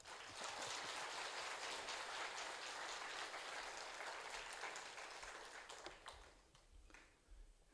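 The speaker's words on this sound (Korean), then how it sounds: "우리 선교사님 나오실 때 큰 박수로 우리 환영하겠습니다" A church congregation claps loudly to welcome a missionary, a dense sustained applause that thins and fades out toward the end.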